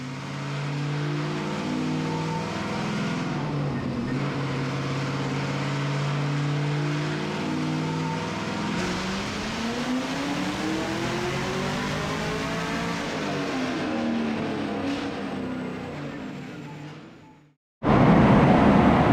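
A 2023 Chevrolet Camaro ZL1's engine roars loudly and continuously nearby, its pitch climbing and dipping as it revs hard for a long stretch before cutting out abruptly.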